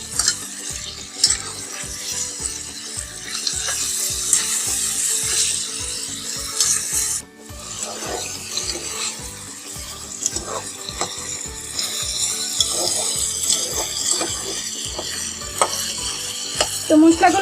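Chicken pieces stirred and fried with spice masala for a chicken roast, loud rhythmic scraping of a spatula against the pan over a constant sizzle, close up with no talking.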